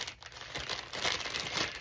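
Brief crinkling and rustling of an Amazon package being opened up close, soft irregular crackles over about two seconds with no talking.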